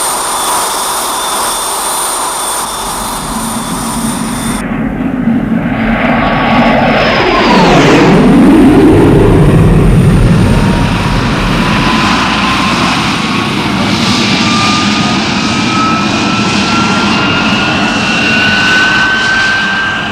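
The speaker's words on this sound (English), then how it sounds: "The pilot is coming in for the low-level speed run now, sir." A jet aircraft makes a low-level speed run, a loud roar building as it approaches and sweeping past with a sharp falling Doppler whine, then a sustained rumble with a thin rising tone, with no talk.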